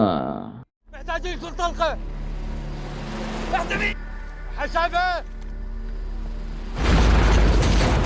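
A bomb dropped by an enemy drone blasts into parked cars, a heavy boom bursting out near the end after stretches of dramatic music and movie sound.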